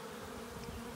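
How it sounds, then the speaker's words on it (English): A swarm of honeybees, some stragglers left outside the box, hums in a steady, dense drone that holds at an even level throughout, close and continuous. "There are some bees here that did not make it in."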